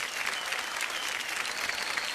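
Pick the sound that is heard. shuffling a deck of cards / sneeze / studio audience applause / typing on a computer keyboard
studio audience applause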